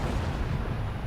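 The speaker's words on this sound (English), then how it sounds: "Undertaker fireworks here." Undertaker's entrance fireworks booming in the WWE 2K25 wrestling video game, a loud, continuous rumbling roar of blasts with no clear gaps between them.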